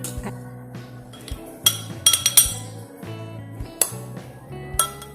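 Spoon and fork clinking against a soup bowl of Manado brenebon soup as they are pulled out, several sharp metallic chinks and rattles in quick clusters, close and distinct with no talking.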